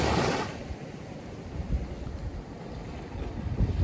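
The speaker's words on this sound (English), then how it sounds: "Probably can't hear me over the waves." Ocean waves wash in a steady rush beneath wind buffeting the microphone, with a louder surge at the start and again near the end, and no voices.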